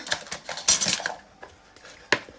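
A spoon stirs a mascarpone mixture for a layered biscuit dessert in a bowl, giving irregular clinks and scrapes against the dish, with a sharper clack near the end and no talking.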